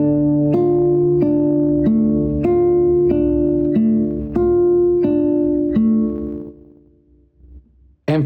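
A classical guitar plays a measure from a Sagreras lesson as a clear, close, unaccompanied pattern of plucked notes in an even, repeating rhythm. The last notes ring out and fade, then a brief click follows.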